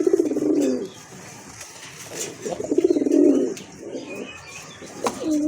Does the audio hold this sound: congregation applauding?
no